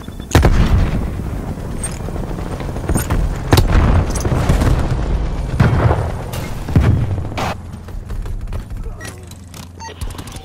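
Booming explosions in a video game firefight, a frag grenade among them, several heavy thuds and blasts spread across the span with crackling shots between, loud and close.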